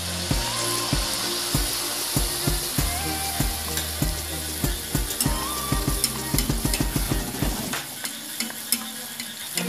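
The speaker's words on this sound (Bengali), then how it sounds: "গ্যাসের আঁচটা মিডিয়াম দিয়ে এটা ভাজতে হবে, তাহলে ভেতরে কাঁচা থাকবে না।" Palm-fruit malpua frying in oil over a medium gas flame, a continuous sizzle broken by rapid rhythmic scraping and stirring strokes of a spatula in the pan, loud and close, no voices.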